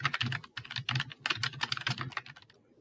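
Fingers type on a computer keyboard to fill in form fields, with a quick patter of close key clicks in bursts and short pauses, ending in quiet.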